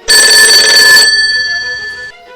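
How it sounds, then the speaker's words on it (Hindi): A mobile phone rings loudly and close by in a quiet room, sounding one bright, tonal burst of about two seconds that then fades out, with no voices over it. "उसका मोबाइल बज उठा।"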